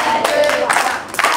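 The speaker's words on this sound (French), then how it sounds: "On acclame pour elle." An audience at a children's club television show claps for a girl, a brief burst of dense hand clapping, loud and close, with a voice briefly heard over it.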